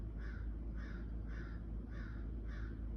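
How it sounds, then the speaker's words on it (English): Crows cawing outside a window in a tree, five evenly spaced harsh caws in a steady rhythm over a low rumbling background, moderately distant. "I don't know why these crows in this bird's tree."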